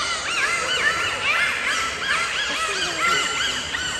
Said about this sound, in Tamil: டால்ஃபின்ஸ் இப்படி தான் கத்துன்றது